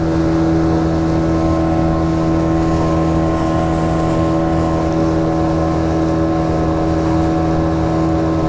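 A Yamaha 15 outboard motor drives a fishing boat, droning loud and steady at constant revs with a strong tonal hum and no pause.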